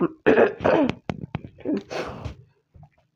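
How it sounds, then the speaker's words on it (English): Several harsh coughs and throat-clearing bursts come close up in an uneven series, separated by short pauses. "I'm having a serious cough."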